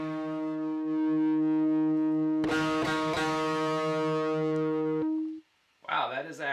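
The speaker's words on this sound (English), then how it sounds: "the first thing we're going to want to hear it through is some distortion. We're just going to do the classic Boss DS1 here." A diddly bow played through a Boss DS1 distortion pedal gives sustained, buzzy distorted notes, with a sharp struck attack partway through and a ringing tail that cuts off, followed by a short voice.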